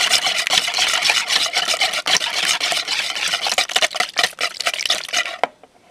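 Two raw eggs being beaten briskly in a bowl for stuffed milkfish (rellenong bangus), a dense, steady scraping whisk that runs continuously and close, then stops abruptly near the end.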